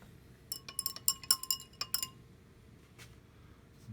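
Glassware clinks and taps in quick succession as it is rinsed and stirred during an enzyme experiment, a bright cluster of small ringing knocks followed by a lone tap, over low background hiss.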